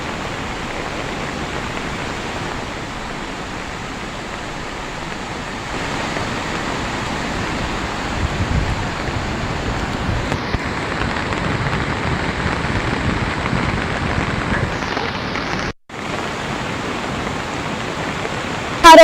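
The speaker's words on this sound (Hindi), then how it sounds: "पहली ही बारिश में सोनखड्ड अपने उफान पर है और खतरे के निशान से ऊपर बह रही है" The swollen Sonkhad mountain stream in Dharampur, Mandi, Himachal Pradesh, roars after the first rain in a steady, loud, broadband rush of churning water that continues without a break.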